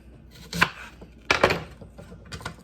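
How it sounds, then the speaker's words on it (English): A knife cuts through an onion in three separate chops, each one crisp and close, with short quiet pauses between them. "let me cut some of my onion off"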